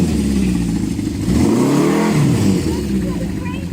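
A motorcycle engine revs up and back down close by, a rising then falling roar over a steady idle, with a rattly clatter underneath.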